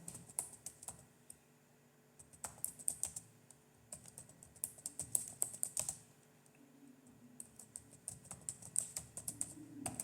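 Typing on a computer keyboard, close and quiet: irregular bursts of crisp key clicks with short pauses between them, alone with no talk.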